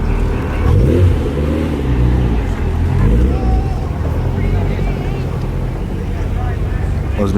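Nissan Skyline R32 engine at a car meet, a loud, steady low rumble with brief revving, heard among other cars and crowd noise.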